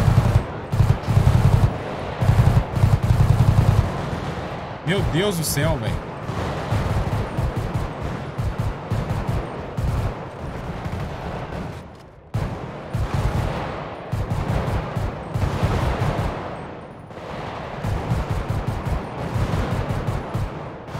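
Gunfire in GTA V during a gang war in a favela: long stretches of rapid automatic bursts and single shots, loud and dense, with a voice exclaiming briefly over the shooting.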